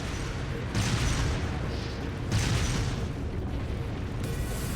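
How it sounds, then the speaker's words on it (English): Stock explosion effects from the video game Trails of Cold Steel, set at Garrelia Fortress, boom in broad, rumbling bursts over a constant noisy wash of battle sound, with a couple of louder swells. "I hear, like, stock explosion noises."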